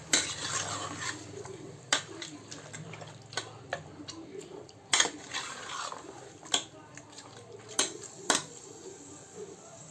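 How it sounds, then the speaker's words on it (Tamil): Mutton pieces stirred in a cooking pot for village-style curry give irregular metallic clinks and scrapes of a spoon against the pot, with soft sizzling beneath and occasional sharper knocks. "போட்டு ஒரு நல்லா மிக்ஸ் கொடுங்க"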